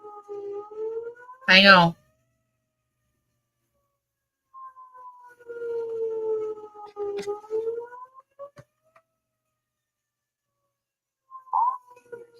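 A tornado warning civil defense siren wails faintly in the distance, its rising and falling tone coming and going across the clip, with a few short spoken words and household noises nearby.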